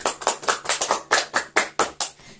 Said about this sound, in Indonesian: Kita beri tepuk tangan buat Tuhan Yesus yang luar biasa.